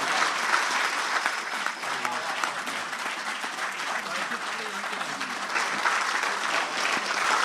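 A large audience at an outdoor evening storytelling performance in the desert near Abu Dhabi applauds continuously, a dense steady wash of clapping at even loudness throughout.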